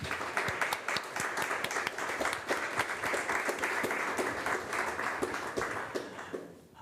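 An audience breaks into applause at a panel event, many hands clapping in a dense, fairly loud burst with sharp individual claps standing out, sustained for several seconds before cutting off abruptly at the end.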